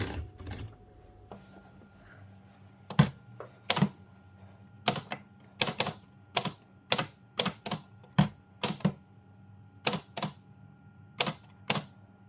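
Keys of a 1922 Empire 2 typewriter strike the paper one by one in an uneven rhythm, sharp close clacks over a faint mechanical hum, with no voices.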